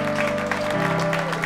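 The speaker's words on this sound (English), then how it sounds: "give Jesus a round of applause" Church congregation applauding at a Sunday Christmas-season service, steady broadband clapping filling the room, with sustained organ or keyboard tones underneath throughout.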